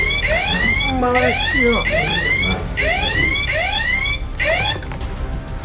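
A strange novelty alarm clock rings during a test, sounding a loud, repeated series of rising electronic chirps in regular bursts, with a brief spoken word partway through.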